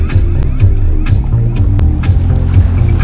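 A dinghy motors across the sea at night in Turks and Caicos, a loud low engine drone with water slapping against the hull and intermittent thumps.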